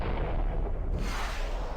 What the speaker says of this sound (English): Now, fire your interceptors until the weapon subsystem has been destroyed.